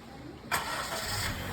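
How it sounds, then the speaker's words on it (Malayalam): A Honda Mobilio manual car starts during a driving lesson in Thiruvananthapuram: a brief crank gives way to the engine catching and settling into a steady, close idle hum. "പുള്ളി തിരിച്ചു സ്റ്റാർട്ട് ചെയ്യും"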